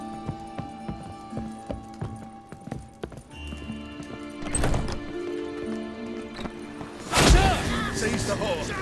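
A horse gallops with rhythmic clip-clop hoofbeats in the video game Witcher 3, set against background music, with a loud crash near the end.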